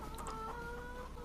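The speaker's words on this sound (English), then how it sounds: "That sounds like a chicken." A farmyard chicken clucks in the video game Farming Simulator 25, a short run of soft, quick clucks over a steady low background hum.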